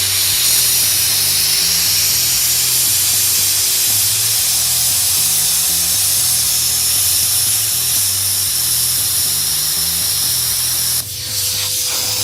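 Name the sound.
Hypertherm plasma cutter slicing 14 gauge sheet metal at 15 amps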